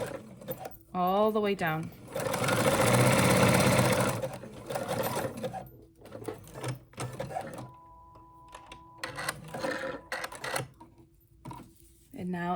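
A sewing machine zigzag-stitches elastic onto a swimsuit, running in a loud, steady burst of close mechanical whirring and needle chatter, then stopping and restarting in shorter runs, with someone speaking briefly between the bursts.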